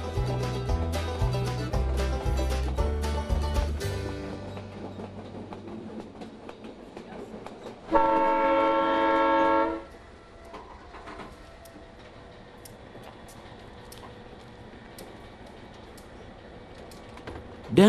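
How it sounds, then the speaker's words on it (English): Steady rumble and clatter of the White Pass Railway train running along the Skagway River in Alaska, with a brief louder metallic screech partway through, continuing as a low rolling drone. "Picking up speed, the train runs along the Skagway River"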